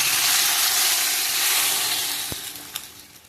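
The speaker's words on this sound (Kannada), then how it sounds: "ನಾನು ಒಗ್ಗರಣೆ ಕೊರ್ಪೆತ್ತಲೆ" Tempering spices sizzle in hot oil for a Tulu-style saaru, a loud broadband hiss that gradually fades, with a sharp tick and a couple of faint clinks near the end.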